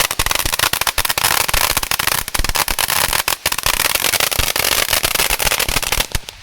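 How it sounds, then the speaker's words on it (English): A Black Cat fireworks fountain crackles loudly and nonstop, a dense close barrage of sharp snapping pops that keeps going with only brief dips. "I have hardly seen a fireworks fountain do this."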